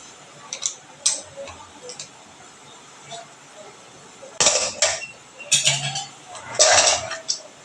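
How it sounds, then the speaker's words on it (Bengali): A pressure cooker of boiled lentils is opened in a home kitchen, giving a few sharp metallic clicks and clinks of the lid and handle, then a short hiss-like burst of steam, heard close with no talking. "মুসুরির ডালটা করবার জন্য এখন কুকারটা খুলে নেব"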